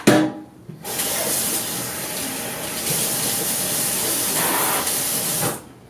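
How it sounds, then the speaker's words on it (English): Running water rinses out the funnel of a coffee brewer, a steady loud hissing spray that lasts about five seconds after a brief clatter, then stops. "Then we rinse out this funnel."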